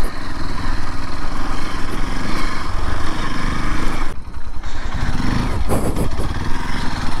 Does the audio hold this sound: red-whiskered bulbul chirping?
no